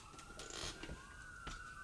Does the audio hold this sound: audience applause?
no